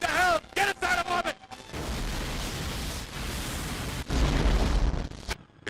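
Explosion as the Enterprise starship is destroyed in the Star Trek Generations Game Boy game, a long loud rumbling roar following short tonal game blips, with a second heavy burst near the end.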